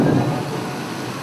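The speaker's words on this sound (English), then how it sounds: "The rain pounding on the roof in Rabaul sounds like Niagara Falls" Heavy tropical rain pounding on a roof in Rabaul, Papua New Guinea, a dense, loud, steady roar with no breaks, heard up close and alone.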